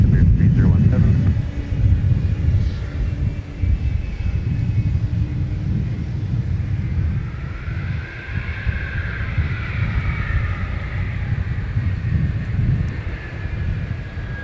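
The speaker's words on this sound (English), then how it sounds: "There's your 717 that Delta acquired from AirTran." A Delta Boeing 717 jet at Minneapolis–Saint Paul airport produces a loud, continuous low rumbling roar with wind buffeting, steady throughout under a faint distant engine whine.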